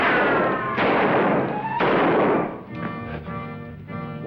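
Gunshots in an old western film: two or three booming reports in succession over a thick rumbling soundtrack, followed by brassy music.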